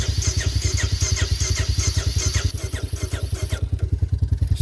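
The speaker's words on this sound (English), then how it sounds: "Alright, I'm going to do no choke. Should start up pretty easy." A motorcycle called Big Red runs after a cold start without choke, its engine firing in a fast, steady, close-up thumping rhythm that stays loud and even throughout.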